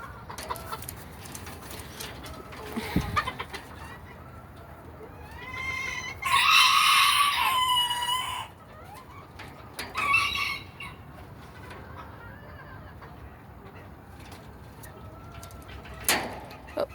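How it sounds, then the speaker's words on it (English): Chickens and a big rooster clucking and cooing in a flock, a steady murmur of bird calls with a louder burst of crowing-like calls midway, fairly close, with occasional other noises. "More chickens. Empty thing. Big rooster, little chicken. More chicks."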